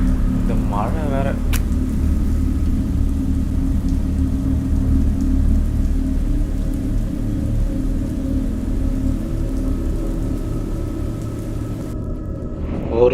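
Steady rain on a surface at night, a constant wash of patter over a low rumble that holds loud and unbroken throughout, with brief voices near the start.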